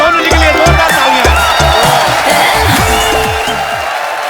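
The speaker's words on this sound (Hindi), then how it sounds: "सोनू जी के लिए जोरदार तालियां।" A studio audience at the Kapil Sharma Show, a comedy talk show, bursts into loud, steady applause and cheering for a guest, mixed with upbeat band music that plays throughout.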